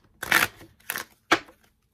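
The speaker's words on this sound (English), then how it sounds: "Two more shuffles here." Tarot cards shuffled by hand, three quick papery riffles in a row, each a short burst a fraction of a second long, close and fairly soft in a quiet room.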